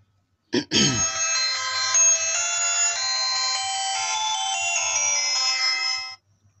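A mobile phone plays its startup ringtone after being switched on, a loud bright melodic chime that starts abruptly and rings steadily for about five seconds, then stops, with no talk over it.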